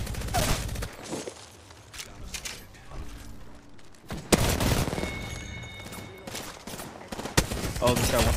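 Bursts of gunfire and sharp impacts crackle through an Apex Legends match, loud volleys recurring over several seconds while players talk.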